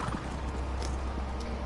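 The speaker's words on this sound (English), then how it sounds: "Horses!" Horses in The Elder Scrolls Online give off soft, quiet hoof clops and faint stirring over a low steady hum, with no talk.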